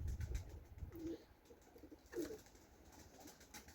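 Soft pigeon coos, two low throaty calls spaced apart, close by against a quiet outdoor garden background.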